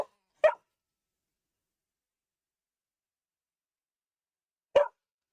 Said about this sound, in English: Stop, Khaleesi. Stop barking.